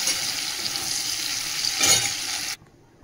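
Shrimp frying in hot oil in a home kitchen, a steady hissing sizzle with a brief louder flare near the end before it cuts off abruptly to near silence.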